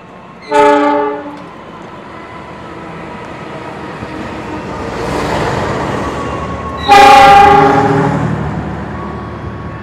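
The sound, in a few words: Ranggajati train to Cirebon arriving at platform track 2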